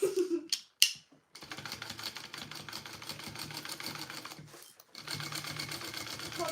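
A domestic sewing machine stitches the seam of a fabric sling in a long, steady, rapid whir of needle strokes, set off by a few sharp clicks and brief pauses.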